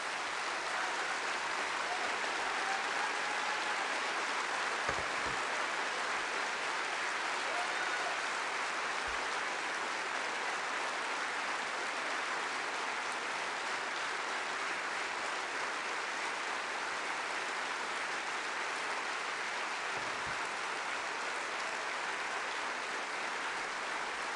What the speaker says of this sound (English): let this conference ring out its approval to the NHS staff, truly the very best of us